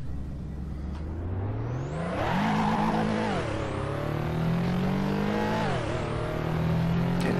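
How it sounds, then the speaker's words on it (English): A supercharged Ruf Yellowbird Porsche (Ruf CTR) in the Assetto Corsa racing game, heard from inside the cabin: a loud, whining engine revs up, drops sharply at gear changes and climbs again steadily. "Doesn't sound how I imagined a Porsche sounds from the inside. But it's definitely supercharged"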